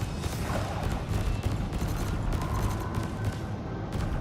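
Spaceship weapons firing in a space combat fight in Elite: Dangerous: a steady, dense barrage of muffled booms and bursts under constant engine rumble, moderately loud and continuous without talk.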